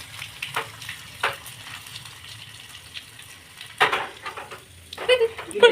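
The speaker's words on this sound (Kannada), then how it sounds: "ಚಟಪಟ ಒಗ್ಗರಣೆ" Cumin seeds crackling in hot oil for a tempering, heard as scattered sharp pops and spits separated by quieter stretches, with the loudest bursts clustering toward the end.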